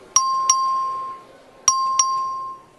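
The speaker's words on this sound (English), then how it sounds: "The clerk will ring the bell." An electronic vote bell in a state House chamber rings in two pairs of bright, ringing ding tones with sustained decay, clear and alone with no talk.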